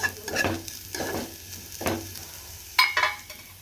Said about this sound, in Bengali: আলু বিনস ফুলকপি ভাজা করছি